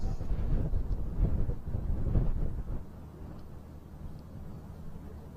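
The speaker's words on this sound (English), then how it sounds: "you can still hear that wind gusting" Wind gusts buffet the microphone at an outdoor archery stadium during a recurve men's gold medal final, a low rumbling roar that is strong for the first few seconds, then eases to a softer steady rush.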